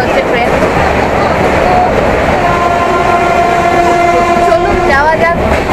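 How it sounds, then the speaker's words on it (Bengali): A passenger train travelling from Araku to Jagdalpur rumbles steadily from inside the coach, with loud continuous running noise and a drawn-out tonal horn-like note in the second half, with faint voices underneath. "একটু আগে ট্রেন ছেড়ে বেরোলো আমাদের আরাকু স্টেশন থেকে, যাচ্ছি জগদলপুর।"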